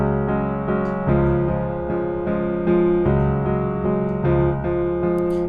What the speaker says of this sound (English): So if I were to just play it as a 1 sus4, it would sound like this.